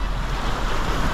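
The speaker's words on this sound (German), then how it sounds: "Das ist ja wirklich eine Wildwasserfahrt hier." Rushing floodwater surges loudly and steadily around a small boat on the flooded Wien river in Vienna, a dense, close roar with wind buffeting the microphone.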